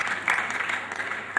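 An audience at the Okhla Toppers Hunt 2012 student award ceremony applauds as girls are welcomed on stage, with dense continuous clapping from a crowd that stays fairly loud throughout.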